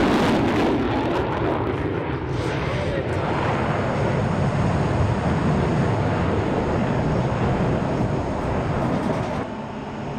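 F-16 Viper fighter jet flying a demonstration routine, a loud sustained broadband jet roar that stays steady and close for the whole stretch, with a slight dip near the end.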